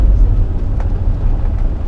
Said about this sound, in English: Another bus coming up.